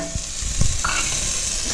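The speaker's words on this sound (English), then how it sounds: "we're going to go ahead and add in the garlic" Garlic hits a hot pan of softened onions for squash soup, giving a steady close sizzle and crackle with a few light stirring knocks early on.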